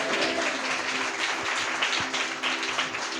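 A church congregation clapping together, a dense, sustained round of applause over a faint steady tone.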